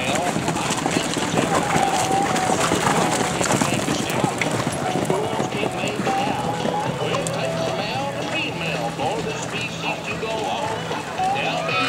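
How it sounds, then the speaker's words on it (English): Horses trotting around a riding arena, with a steady muffled clip-clop of hooves on soft footing under an instructor's voice calling out, all continuous throughout. "Then bring your horses back down to a walk."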